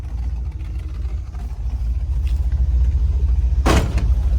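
An old Plymouth SUV engine runs at a close, steady idle with a low, uneven rumble and throb that gets slightly louder over time. A short hissy burst cuts in near the end, and no one talks.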